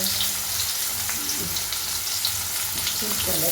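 Onions and tomato frying in a pan for Puneri misal, a steady close sizzle with faint stirring scrapes running throughout.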